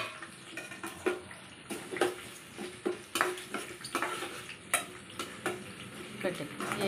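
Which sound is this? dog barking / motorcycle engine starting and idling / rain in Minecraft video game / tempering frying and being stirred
tempering frying and being stirred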